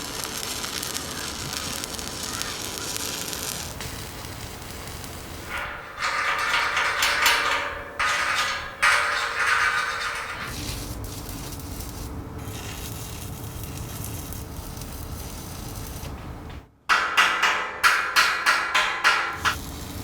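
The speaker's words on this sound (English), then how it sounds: "I'll be welding the outside of this tongue thing on a ladder" Welding on the tongue frame of an urban logging trailer, with long spells of crackling arc hiss, short breaks between beads and a burst of rapid tapping or chipping near the end.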